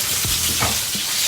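Tuna steak searing in hot oil in a pan, a steady loud sizzle and crackle with a few brief stirring or shifting noises, no talk.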